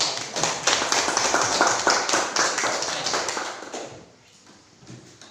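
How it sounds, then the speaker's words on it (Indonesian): A primary-school class claps for classmates who have just danced, brisk dense applause from many small hands that tapers off and fades out near the end. "tepuk tangan untuk mereka"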